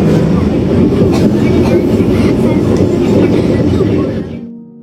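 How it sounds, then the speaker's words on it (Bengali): A Vande Bharat Express train runs steadily on its route from NJP in northern Bengal, with a loud, continuous rumble and rattle throughout that fades away in the final moment. "সুন্দর একটা ট্রেন জার্নি হচ্ছে।"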